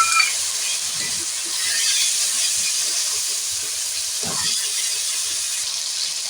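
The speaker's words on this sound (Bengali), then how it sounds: "এটাকে এবার ভেজে নেব" Ginger fries in a pan with turmeric and water added, giving a steady loud sizzling hiss throughout, with a few faint clinks and stirring sounds beneath.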